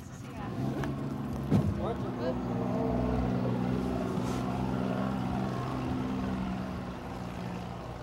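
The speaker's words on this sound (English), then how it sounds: "The boat is leaving Nenana," Riverboat motor on the Tanana River at Nenana, Alaska, a low steady droning rumble with a brief knock early on, moderately loud and continuous.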